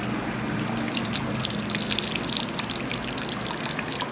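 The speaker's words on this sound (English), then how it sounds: "And we're gonna let it all drip out" Beer wort drains during homebrewing, a steady trickling and dripping of liquid that runs continuously and fairly close, with no talk over it.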